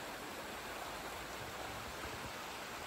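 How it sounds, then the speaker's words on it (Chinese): A mountain stream below a castle in Sion, Switzerland, gives off a soft, even rush of flowing water. It is faint and steady throughout, with no talking. "哎呀，这个溪水流的"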